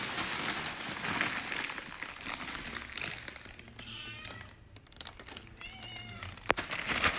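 A friendly cat gives a few clear, nearby meows in the second half, following rustling and crinkling sounds close by.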